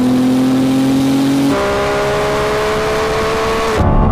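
A Lamborghini Revuelto with a naturally aspirated V12 and a twin-turbo V6 Ferrari 296 accelerate hard in a rolling half-mile race, a loud sustained engine drone rising in pitch, then an upshift and another climbing pull.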